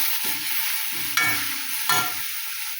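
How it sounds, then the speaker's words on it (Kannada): Okra stir-fry with turmeric being stirred in a pan: a steady high sizzle of frying runs throughout, broken by three scraping, clattering stirs of the spatula against the pan, close and fairly loud, with no talking. "ಈಗ ಅರಿಶಿನ ಪುಡಿ ಹಾಕ್ತಾರೆ. ಚೆಂದಾಗಿ ಮಿಕ್ಸ್ ಮಾಡ್ಕೊತಾರೆ."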